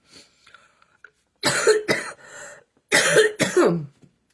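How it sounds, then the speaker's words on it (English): Two loud bursts of harsh, phlegmy coughing close to the microphone, each a quick double hack, separated by a short pause after some faint breathing. "this cough is just, it's horrendous."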